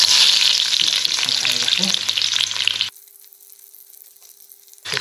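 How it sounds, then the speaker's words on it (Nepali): Fenugreek seeds and garlic crackle loudly in hot olive oil, a dense sizzle that cuts off abruptly into near silence with a faint steady tone, then the frying returns at the end. "तेल तातो, यसमा थोरै मेथी"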